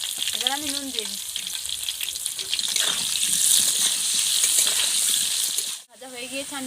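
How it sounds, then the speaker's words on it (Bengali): Potato pieces sizzle loudly in a pan with turmeric and salt, a dense steady crackle that cuts out for a moment before resuming, with a voice heard briefly at the start and end. "আলু ভাজার জন্য আমি অল্প করে হলুদ আর নুন দিয়ে দেবো।"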